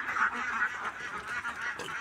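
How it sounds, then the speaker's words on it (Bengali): Khaki Campbell ducks quack and honk in a lively, overlapping chorus at moderate distance, a flock calling continuously. "এগুলো হলো খাকি ক্যাম্বেল প্রজাতি"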